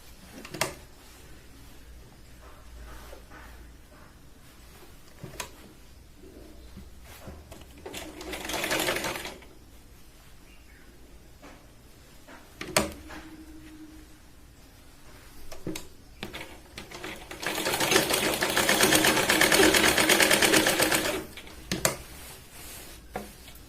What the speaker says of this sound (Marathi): हे बघा दुसऱ्या साईडचं आपण शोल्डर जे आहे व्यवस्थित मुंड्याकडे डाऊन करत त्याला शिलाई लावणार आहोत